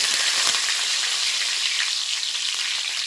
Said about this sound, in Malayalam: കറിവേപ്പില ഇട്ട് കൊടുക്കുക